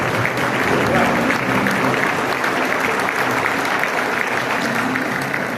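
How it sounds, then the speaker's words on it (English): An audience applauds at a political leader's dinner, a sustained, dense round of clapping that holds at a steady, full level throughout with faint voices blended in the crowd. "I want to give a big round of applause to our leader, the Premier, and all of my fellow colleagues that were here tonight."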